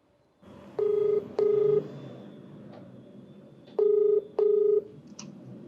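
Four loud steady DTMF keypad tones from a telephone while a call is placed, coming in two pairs of beeps that each last about half a second, over a quiet room with no talking.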